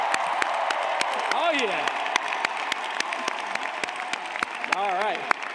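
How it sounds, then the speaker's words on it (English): Large crowd applauding and cheering the class of 2025 at a Kean University commencement, with sustained clapping, whooping voices, and sharp claps standing out near the microphone throughout. "Can I hear a big round of applause for the class of 2025?"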